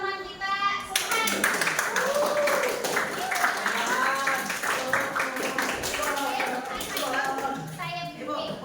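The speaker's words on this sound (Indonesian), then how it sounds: "Tepuk tangan dulu buat teman kita, Subhan." A classroom of pupils claps for a fellow student, a burst of lively hand clapping mixed with a teacher's voice and children talking over it.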